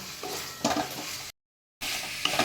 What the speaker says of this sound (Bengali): এগুলো দিয়ে আমি একটু ভালো করে কষিয়ে নেব